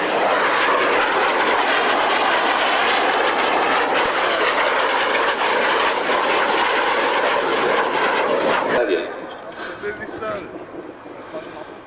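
Loud roaring jet engine of a Hawker Hunter at an airshow, a sustained rushing whine that holds close and strong, then drops away abruptly near the end, leaving fainter rumble with a voice talking over it.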